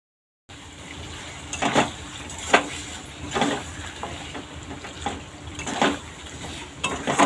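Chicken with spices being stirred and fried in a pan, rendered fat sizzling faintly while a utensil scrapes and clinks against the metal every second or so, nearby and fairly quiet, no speech.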